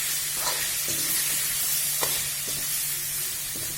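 Raw mango curry being mixed with white and black salt in a pan, a steady sizzling hiss with periodic spoon scrapes and light taps against the pan.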